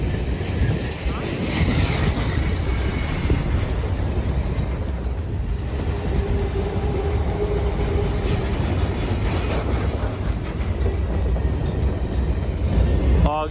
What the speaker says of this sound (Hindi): आ गई भाई साहब ट्रेन, इतनी लंबी ट्रेन है, ख़त्म ही नहीं होने लग रही